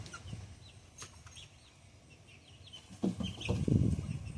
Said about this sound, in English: Here are the other chickens.